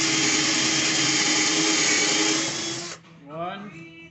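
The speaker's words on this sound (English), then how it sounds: "Now I'm going to pre-drill the holes." A power drill whines steadily for about three seconds, loud and close, pre-drilling holes in wooden boards for a sink base floor, then stops, followed by a brief spoken voice.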